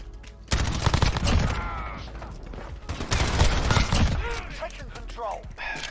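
Rapid bursts of gunfire in a night-vision shooter video game, loud and repeated over a few seconds among other game sounds, with voices talking over it.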